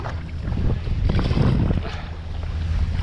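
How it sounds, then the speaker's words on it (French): Strong headwind gusting across the microphone while paddleboarding on open water on an Itiwit Race 14' paddleboard, a steady loud roaring buffet with low rumble and splashing water beneath, no voices. "il y avait énormément de vent de face"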